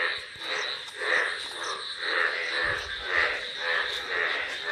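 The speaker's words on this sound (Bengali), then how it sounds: "সকাল থেকে তো ভীষণ ভালো, ব্যাঙের আওয়াজে একদম ভরপুর" Frogs croak in chorus in a quiet rural spot after heavy overnight rain and thunder, a steady rhythmic pulsing of calls about once a second, dense and continuous, with a faint low background rumble.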